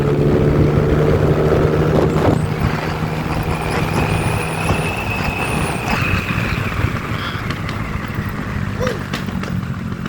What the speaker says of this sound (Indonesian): Meledak-meledak kayak motor gua.